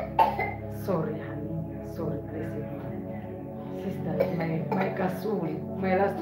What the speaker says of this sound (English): look, he's coughing for life